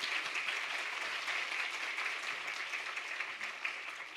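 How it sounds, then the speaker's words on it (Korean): Applause from a church congregation welcoming a visiting pastor to the pulpit for a Sunday sermon, a steady broad wash of clapping at moderate level that continues evenly for several seconds without speech. "목사님 나오실 때 박수로 환영하겠습니다"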